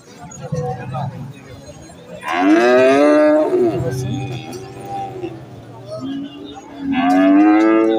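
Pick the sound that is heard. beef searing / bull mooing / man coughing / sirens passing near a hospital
bull mooing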